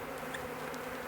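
Honeybees buzz around an opened hive while a crowded frame is being worked, a faint, steady hum with a few brief louder passes by individual bees.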